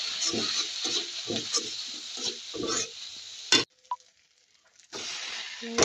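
Frozen tomato sauce is stirred in a cooking pan, giving a series of rhythmic scraping and sizzling strokes, close, then a brief near-silence and a return of steady frying noise.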